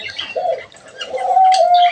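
Caged pet budgerigars and lovebirds call out while being caught by hand, giving a string of close, fairly loud chirps and cooing notes, including one long, steady whistle near the end.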